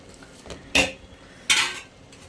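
Metal lid set down twice on a cooking pot of banana flower and drumstick leaf stir-fry, two sharp clanks about a second apart, close and clear in a quiet kitchen.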